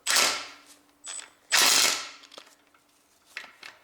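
A ratchet wrench turns an oil sump bolt on a Honda Civic 1.8 engine, giving three sharp, close ratcheting bursts separated by quiet pauses, with no talk.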